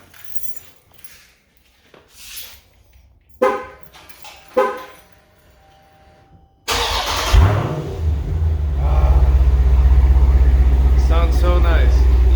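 A widebody Hellcat starting cold after a few soft clicks and voices, its engine catching with a loud burst and settling into a deep, steady rumble close by.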